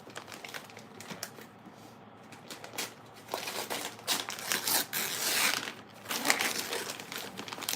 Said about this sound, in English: Let me get the paper off.